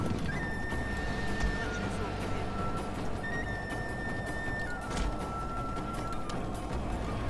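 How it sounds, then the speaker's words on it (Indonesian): Cavalry horses in the feudal Japan strategy game Total War Shogun 2, with a steady bed of hoofbeats and battle din, whinnies rising over it, while someone talks throughout. "Oke, ini pasukan kuda kita."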